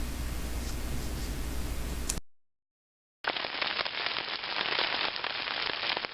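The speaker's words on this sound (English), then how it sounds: "Yep, still raining." Steady, dense patter of rain drumming on a tarp at a hammock campsite, broken by a brief silent gap before the heavy pattering resumes.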